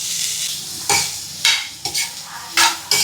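Red, yellow and green capsicum is stirred into onions sautéing in a pan, giving a loud sizzle broken by several sharp bursts of spatula scraping and tossing.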